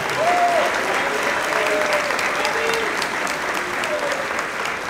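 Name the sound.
audience applause at a football banquet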